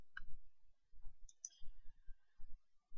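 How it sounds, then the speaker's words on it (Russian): A computer mouse clicking while a website is browsed: a few sharp, close clicks, with soft low thumps in between and no talk. "кликнем сюда"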